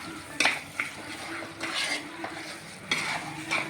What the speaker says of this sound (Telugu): రెండు ఆకులు పుదీనా కొంచెం కొత్తిమీర వేసేసి కలుపుకుందాం